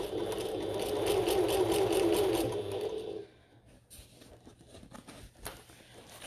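A sewing machine stitches fabric for a bucket tote in a steady close whirring run for about three seconds, then stops, leaving faint light clicks and handling noises.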